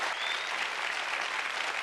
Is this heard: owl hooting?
no